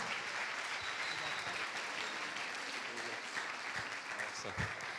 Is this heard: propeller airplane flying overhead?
no